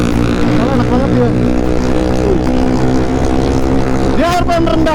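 Single-cylinder motorcycle engine, a Yamaha WR155 on a night ride, heard steady and close, with a passing machine's engine note rising briefly near the end; people talk over the engine throughout.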